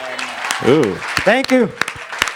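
Audience clapping at a fraternity showcase for La Unidad Latina, Lambda Upsilon Lambda, Alpha Chi Chapter, rising briefly in scattered bursts beneath a performer's voice as they speak.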